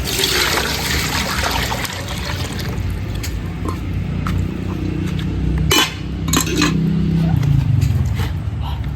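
Water poured out in a steady trickle while preparing a chicken in an African village, with occasional glassy clinks and low background noise throughout.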